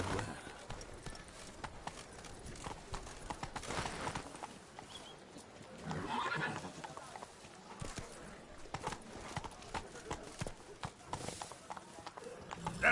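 Roach the horse in The Witcher video game: steady clip-clop of hooves at a trotting rhythm, fairly close, under game ambience with a soft voice at times.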